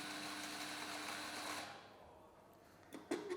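A Rancilio Stile coffee grinder with 58 mm flat burrs whirs steadily up close for about a second and a half, then spins down and stops, followed by a few light clicks.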